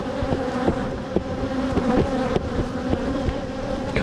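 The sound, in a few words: bees on a hive frame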